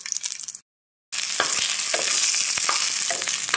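Garlic and ginger fry in a pan with cumin and coriander, giving a loud, steady sizzle with scraping stir sounds. A brief silent gap interrupts it before the hissing resumes.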